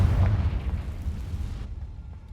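A Confringo spell blast in the Hogwarts Legacy video game: a loud, deep explosive boom that rumbles from the start and fades over about two seconds, with no talking.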